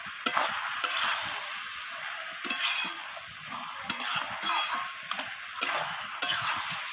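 Cabbage with green peas and green chillies frying in a pan is stirred with a utensil, giving a steady sizzle broken by repeated scraping and clinking strokes at an unhurried rhythm.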